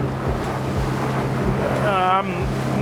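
A motorboat engine drones steadily at 4,000 revs, just under 26 knots, on a 23-foot Savage 6.5 m boat, under wind noise and rushing water, with a brief tonal whine near the end.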